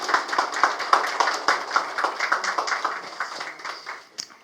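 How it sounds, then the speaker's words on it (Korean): Indoor audience applause welcoming a speaker at a Korean political campaign announcement, brisk close clapping that tapers off over about four seconds. "박수로 환영해 주시기 바랍니다."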